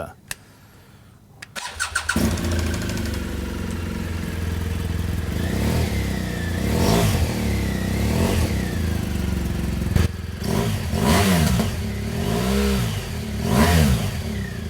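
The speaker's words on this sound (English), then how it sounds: "So let's listen to the stock exhaust. We'll get it going and compare" A 2017 BMW R1200GS Adventure motorcycle engine starts after a few cranks, then idles and is revved several times with a stock exhaust, close by, with some talking mixed in.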